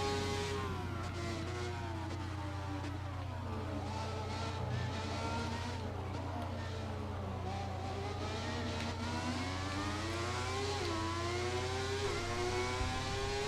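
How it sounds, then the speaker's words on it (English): An old Formula 1 car engine in the F1 2017 racing game screams at high pitch, revving up and down continuously through shifts and corners, loud and sustained with no talking. "The scream of the old F1 engines is something else."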